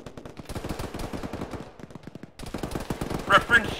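Automatic and rapid rifle fire in the Arma military game, a dense run of sharp shots for nearly four seconds with a brief pause midway, voices talking faintly underneath.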